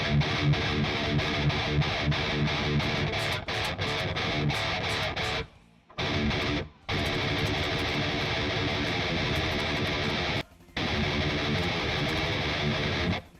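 Heavily distorted electric guitar through amp simulator software chugs out thrash metal riffs, loud and dense, with a few brief stops between bursts.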